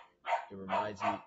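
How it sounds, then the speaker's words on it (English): A pet dog barks in a few loud, close bursts indoors while a person talks over it. "Sorry for the barking of my dog."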